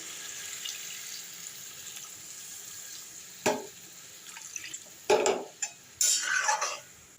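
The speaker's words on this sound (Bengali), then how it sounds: "এবার জল দিয়ে দিলাম" Water is poured into a drumstick and poppy-seed curry in a pan, with splashy pouring bursts and clinks over a low background hiss.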